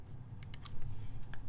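Light typing on a quiet mechanical keyboard with keycaps, a few soft clicks at an uneven pace, faint over low background hum.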